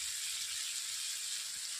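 Masala spices frying in oil in a pan for a rui fish curry, a soft, even hiss of sizzling throughout this short moment.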